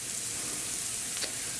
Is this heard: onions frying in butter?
yes